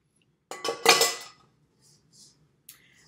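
A spatula scrapes the last chocolate ganache from a mixing bowl while an Easter chocolate ganache cake is made. Close, loud scraping and clinking runs for under a second, then a few faint scrapes and a short final tap follow, with no talk.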